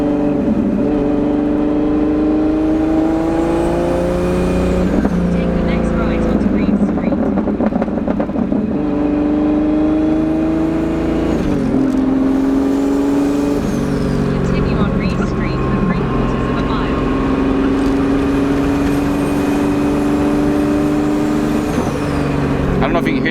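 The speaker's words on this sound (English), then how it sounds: "This car's definitely popping a lot more than it did before." A car engine running lean revs up and down repeatedly at close range, its droning tone rising and falling in waves, with irregular popping and crackling scattered through the running.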